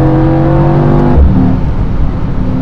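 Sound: Mercedes-AMG E63 S V8 biturbo engine revving

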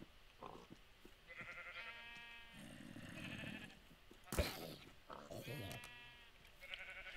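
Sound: sheep bleating in the video game Minecraft

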